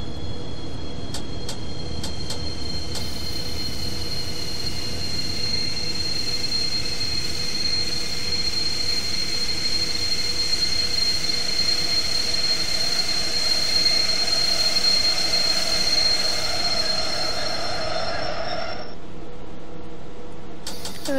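A train rolls along the rails in the video game Train Simulator, a steady, continuous rumble under a long, high, thin wheel squeal that fades out near the end, with no talking.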